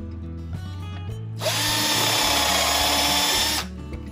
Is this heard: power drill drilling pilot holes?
yes